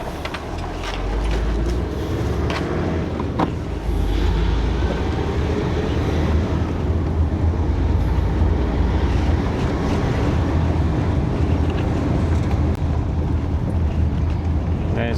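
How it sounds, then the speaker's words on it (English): Car travelling along a road on the Isle of Lewis in the Outer Hebrides, Scotland, giving a steady low engine and road rumble with wind buffeting the microphone throughout, no talk. "We'll carry on driving."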